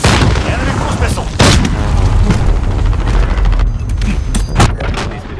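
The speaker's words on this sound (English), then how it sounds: "Enemy cruise missile!" Loud, heavy booms of a cruise missile strike in Call of Duty: Modern Warfare, several blasts rolling one after another with rumbling debris and crackling gunfire-like bursts, close and dominant.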